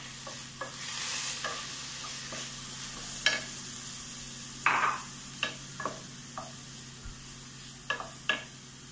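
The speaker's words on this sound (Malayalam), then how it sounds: "നമ്മുടെ ഉള്ളി ഇവിടെ വാടി വന്നിട്ടുണ്ട് നമുക്ക് അതിലേക്ക് തക്കാളി ആഡ് ചെയ്യാം" Tomato tossed into softened onions sautéing in a pan for chutney, with a soft sizzle throughout and intermittent spatula scrapes and taps, moderately close.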